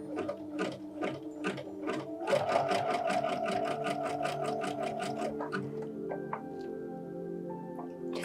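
A sewing machine stitches in a rapid, even mechanical patter that speeds up into a dense run, then slows to sparse clicks and faint whirring near the end, heard up close with no talking.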